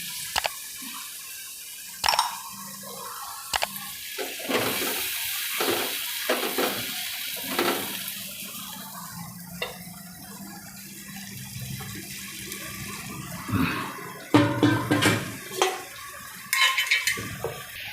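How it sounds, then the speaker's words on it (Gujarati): A glass of water poured into a cooking pot while making spinach and gathiya curry, heard as intermittent splashes and clinks of a utensil against the pot, with quiet gaps between, close and moderately loud, no talking. "હવે એમાં આપણે એક ગ્લાસ પાણી નાખીશું"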